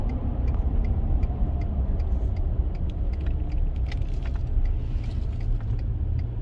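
A Ford F150 pickup driving on a 40 mph road shortly after a cold start, engine kept under 2,000 RPM, fills the cabin with a steady, loud low rumble and scattered faint ticking clicks, with no talking.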